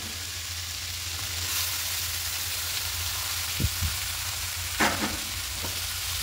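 Cabbage tipped into a pan of sizzling spices, peas and fried potatoes for a vegetarian cabbage ghonto, a steady frying hiss with a few sharp clatters and scrapes from stirring.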